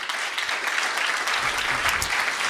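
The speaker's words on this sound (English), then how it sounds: "Give them a round of applause." An audience at a downtown Santa Monica town hall on homelessness bursts into steady applause, dense clapping from many hands throughout, with no one speaking over it.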